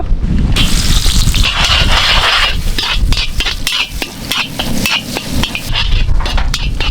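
Fennel seeds, curry leaves and small shallots sizzle and crackle loudly in hot sesame oil, a dense continuous frying hiss broken by quick stirring scrapes and clicks throughout, with no voices.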